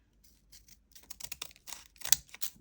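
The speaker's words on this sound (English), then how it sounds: "just going to cut it down a tiny bit" Scissors snip paper for a junk journal embellishment, a quiet, close run of small irregular cuts that grows a little denser toward the end.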